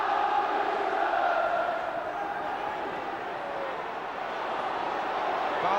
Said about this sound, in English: And the crowd respond.